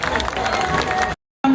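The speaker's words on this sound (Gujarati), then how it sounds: "એકવાર તાળી વગાડો અમને માટે." Audience clapping for the Bhavnagar police, a dense burst of applause from a crowd that cuts off abruptly, then resumes briefly after a gap.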